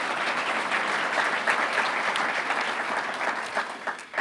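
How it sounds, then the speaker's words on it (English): Audience applause at the 2019 Roseville State of the City Address in California, a dense, steady clatter of many hands clapping throughout, fairly loud and close, with no speech over it. "One last round of applause, please."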